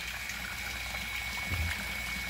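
Water steadily trickles and flows as it rises in an outdoor fish pool, a soft continuous wash with a faint steady hum beneath, heard alone at low level.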